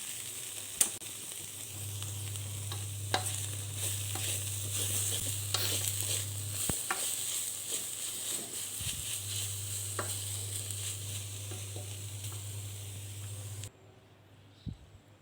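Basil and herbs stirred into a Thai pickled bamboo shoot salad, a steady wet rustling and mixing texture with occasional utensil taps and a low hum underneath, fairly close and continuous.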